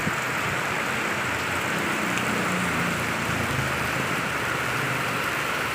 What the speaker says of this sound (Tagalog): Malakas ang ulan, malakas pa ang hangin.